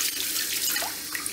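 Tap water runs in a steady, close hiss to rinse a telescope mirror, splashing continuously with a few faint drips throughout.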